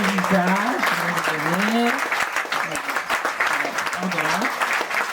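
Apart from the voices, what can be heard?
audience applause at a garden inauguration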